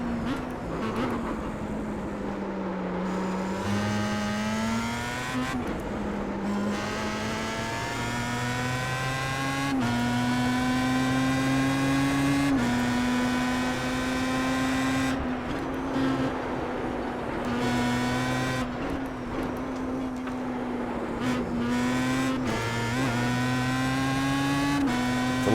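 Star Mazda race car engine in the iRacing simulator at the Nurburgring GP circuit, a loud continuous high-pitched whine rising and falling through repeated gear shifts and braking, with no voices.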